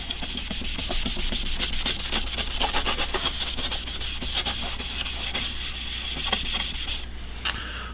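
Cloth rubbing dye stain onto a figured wood board, a steady close scrubbing and swishing texture with repeated strokes throughout.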